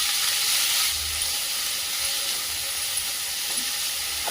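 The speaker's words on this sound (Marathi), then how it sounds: "नुसता फ्राय करून घ्यायचं आहे पालक असा हलवून घ्यायचा व्यवस्थित" Spinach frying in a hot pan with crushed cumin and garlic, giving a steady close hiss of steam and sizzle while it is stirred, with no talking.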